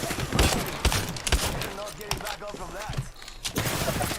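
Rapid bursts of gunfire from a shooting video game, sharp repeated shots in quick clusters with other game effects, while players talk over the action.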